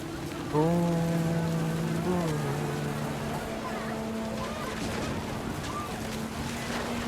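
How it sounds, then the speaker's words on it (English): Heavy rain pours down in What Remains of Edith Finch, a dense steady hiss of falling water with a voice talking over it near the start. "Rain came down in buckets then"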